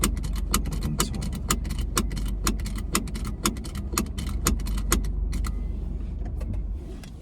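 In a Subaru BRZ, a rapid, steady ticking of clicks runs for about six seconds as the car is switched on and off, close and crisp over a low engine-like rumble, then stops.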